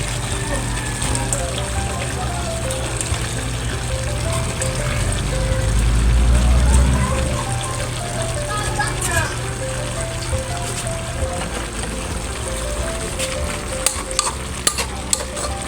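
Vegetables are tipped into a simmering coconut milk stew of ginataang gulay and stirred, giving a steady bubbling and frying texture with scraping and clatter, loudest in the middle and continuous throughout.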